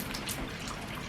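Rain falls steadily during a rainstorm in Indiana, a close, even hiss of drops pattering on surfaces with no pauses and no voices.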